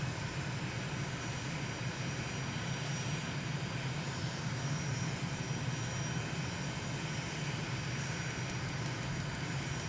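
Simulated Aermacchi MB-339 military jet descending at 2,500 feet a minute over the Bolivian Andes in Microsoft Flight Simulator: a steady, dense engine roar and airflow rush holding at even loudness throughout, no talk.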